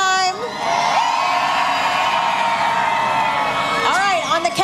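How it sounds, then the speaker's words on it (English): A parade crowd in Fort Worth cheers and whoops loudly and continuously, with shouts and children's yells rising near the end. "We love to hear how excited the crowd is here."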